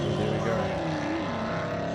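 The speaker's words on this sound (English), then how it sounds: "That thing is 64 Chevelle, just ripping." A 1964 Chevelle drag racing at a spectator drag event at Seekonk, its engine roaring loud and close with a rising, sweeping pitch as it rips down the strip.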